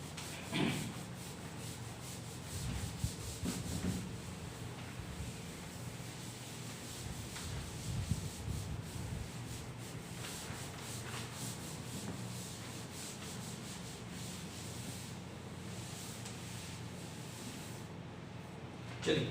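A classroom board is rubbed clean with long, continuous scrubbing strokes, a rough brushing rasp that rises and falls rhythmically for close to twenty seconds without talk.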